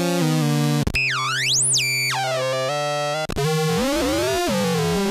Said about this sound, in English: I can run through different types of oscillators.